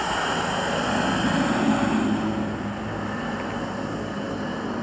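A tractor passes near a field of beef cattle beside a house, heard as a steady, fairly loud engine rumble that swells slightly midway and then eases, with no talk over it.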